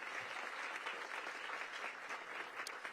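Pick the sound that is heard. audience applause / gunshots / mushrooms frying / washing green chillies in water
audience applause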